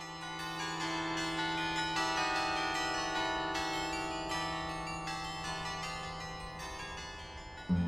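A giant outdoor glockenspiel of 37 bells standing in a meadow by Lake Uri in Switzerland plays a slow melody, overlapping metallic tones ringing steadily and sustaining into one another, loud and clear.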